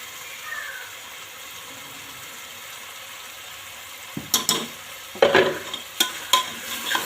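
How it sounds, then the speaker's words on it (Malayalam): Beef curry being stirred in a pan with turmeric and chili powder, a quiet low sizzle broken after a few seconds by several sharp scrapes and clinks of a spoon against the pan, with no talking. "മൂന്നും കൂടി ചേർത്ത് മിക്സ് ചെയ്ത് നന്നായി ഇളക്കി കൊടുക്കുക"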